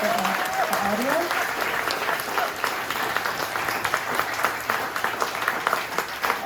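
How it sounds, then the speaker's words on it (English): An audience at a mayoral candidates forum applauds the candidates, a sustained, loud wash of clapping from a full room that swells early and carries on steadily, with a voice talking over the opening. "Let's give our candidates a round of applause"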